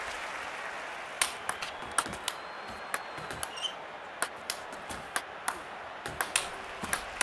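A table tennis rally in the London 2012 video game, with a quick series of sharp, fairly faint ball clicks about every half second over a soft crowd hiss.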